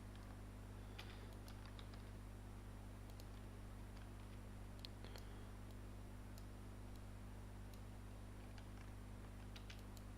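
Soft keystrokes on a computer keyboard, typed blind while working in Blender, scattered clicks and short bursts faint over a steady low electrical hum.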